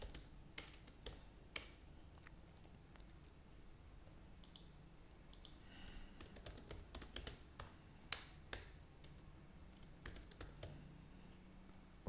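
Sparse, quiet keystrokes on a computer keyboard while filling in a table, with scattered single taps and short clusters of clicks spread across a faint, still room.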